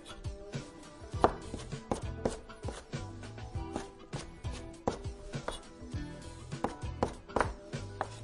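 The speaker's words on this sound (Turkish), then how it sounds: "Bunları doğruyorum" Repeated knife chops on a cutting board as roasted vegetables are cut, irregular but steady taps close by, with no talking.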